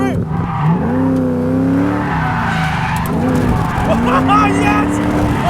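A cheap Ford Falcon V8 skids under the handbrake, its tyres squealing in long wavering tones over a revving engine, loud and close, with excited voices shouting over it.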